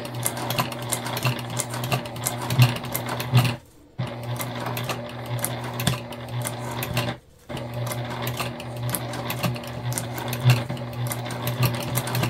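Sewing machine running steadily through quilted poly fabric for a bag, a continuous close mechanical whir with quick stitch ticks, pausing briefly twice before starting up again.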